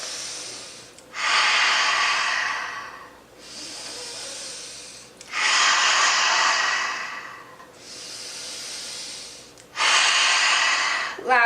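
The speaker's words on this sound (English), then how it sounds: "open mouth, exhale, nice and loud, like you're making a huh sound" Loud, breathy open-mouth exhales with a huh quality during a home yoga breathing practice, several long whooshing breaths in a steady rhythm, each separated by a quieter pause for the inhale, close to the mic.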